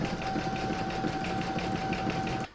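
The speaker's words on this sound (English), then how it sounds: "Next we come to round number 9, which is the satin stitching around the circle." An embroidery machine satin-stitches around a circle on an in-the-hoop table topper, a fast steady mechanical chatter with a constant hum, close and continuous until it halts at the end.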